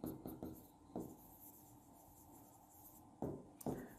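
A teacher writes notes during a chemistry lesson on ionic equilibrium: quiet, scratchy pen strokes come in short bursts with longer steady stretches between, close by and without any talking.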